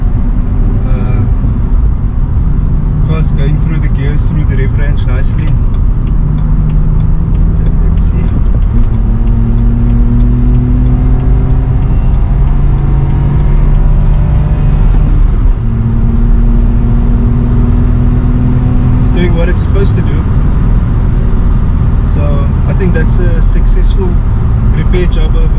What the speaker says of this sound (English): Car's going through the gears, through the rev range nicely